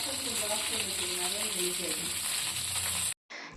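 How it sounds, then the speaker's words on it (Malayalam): Cut okra hisses and sizzles loudly in hot coconut oil as a dense, continuous frying crackle, then it breaks off abruptly near the end. "വെളിച്ചെണ്ണയൊക്കെ നല്ലതുപോലെ ചൂടാകുമ്പോൾ നമ്മൾ കട്ട് ചെയ്ത് വെച്ചിരിക്കുന്ന ഈ ഒരു വെണ്ടയ്ക്ക അതിലോട്ട് ആഡ് ചെയ്ത് കൊടുക്കാം"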